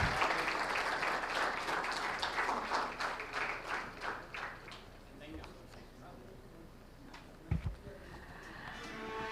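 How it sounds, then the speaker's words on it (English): An audience at a stock exchange listing ceremony gives a round of applause, steady clapping that gradually thins into separate claps and a few sharp knocks, with murmured talk underneath. "Let's congratulate, ladies and gentlemen, with a big round of applause"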